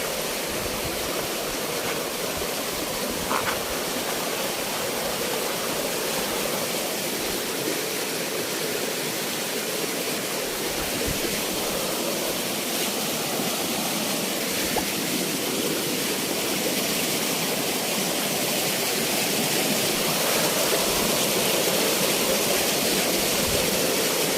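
A river flowing through a forest, a constant close rush of water with broad steady splashing and gurgling that continues unbroken throughout, heard alone without voices.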